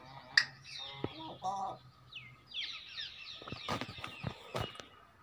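A farm aviary in Punjab, Pakistan, holds many imported parrots of a high-class breed, heard as scattered squawks, chirps and brief wing flaps, fairly faint and sporadic with quiet gaps between calls.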